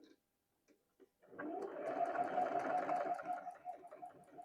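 A sewing machine stitching a small mini tote key chain: after a few light clicks and a short pause, the motor starts and runs steadily for about three seconds with a rapid needle rattle, close and clear, then slows and stutters near the end.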